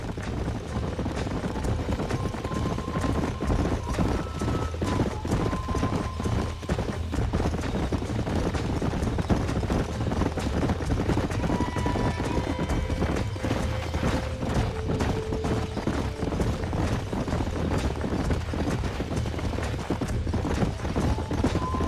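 Horse hooves clip-clop steadily throughout a Red Dead Redemption ranch scene, with an occasional whinny and a bed of music beneath, loud and continuous for about twenty seconds.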